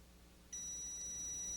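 A continuity tester emits a steady, sustained electronic beep while probing the pins of a Gorf arcade ROM/RAM board, starting abruptly after a half second of quiet hum.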